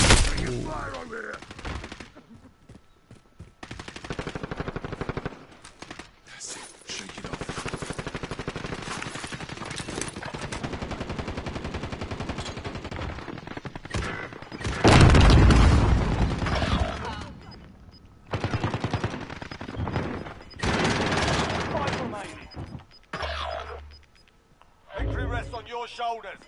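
Heavy gunfire rattles through a Call of Duty Warzone Rebirth match: long stretches of rapid automatic fire and explosive bursts, loud and close, broken by brief lulls, with voices talking over the action.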